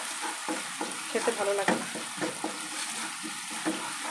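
Ginger-garlic paste frying and being stirred in a pan, a steady soft sizzle with scraping strokes of the spoon; a brief voice speaks over it.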